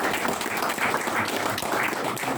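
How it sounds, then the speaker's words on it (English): A crowd applauds at a Flames of War UK Nationals 2024 tabletop wargaming event, a brief dense wash of clapping that holds steady throughout. "So a round of applause to everyone who can bring a table to."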